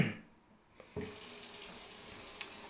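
Water from a tap pours into a ceramic scuttle, a steady hissing stream starting after a brief click and continuing close and fairly quiet to the end.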